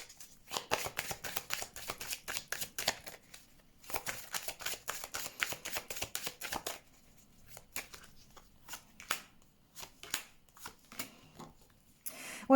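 Tarot cards shuffled in rapid riffling bursts, then dealt out one by one as separate crisp slaps and snaps on a surface, close and clear with no talking.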